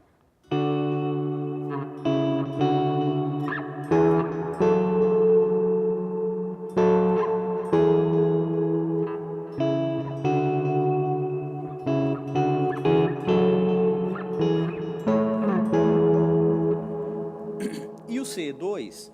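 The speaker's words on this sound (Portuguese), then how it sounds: "eu faço um delay em cascata com os dois, para quando eu quero alguma ambiência, porque ele vai continuar repetindo e batendo no meu reverb" An electric guitar plays through two cascaded delay pedals feeding a reverb on a pedalboard, with notes repeating and washing into a sustained ambient tail, clear and upfront throughout.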